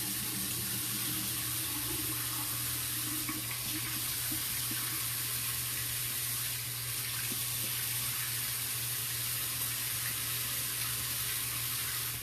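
A bathroom tap runs steadily and close by as the face is rinsed mid-shave with a Rolls razor, a continuous even water hiss with a faint low hum underneath.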